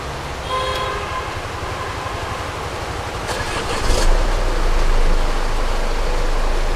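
A Jaguar XF idles with a low, steady engine rumble that swells slightly partway through and then holds, recorded close by with no talking.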